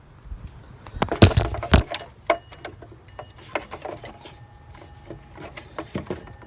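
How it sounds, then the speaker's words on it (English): Wrench clacking and metal rattling as the belt tensioner is pushed down on a 2007 Jeep Liberty engine, a few close sharp knocks early, then lighter scattered taps and scrapes. "you're going to go and put your wrench on here, just push down, you'll see the slack on the belt, and then you can pull the belt off"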